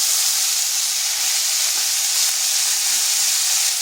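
Radish greens sizzle in hot oil with dried and green chillies, a constant loud close hiss of frying that holds steady throughout, no voices.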